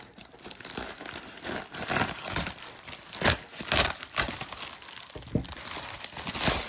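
Crinkling and tearing of airgun packaging as it is cut into and opened, a close, continuous run of crunchy plastic rustles and rips with louder bursts throughout.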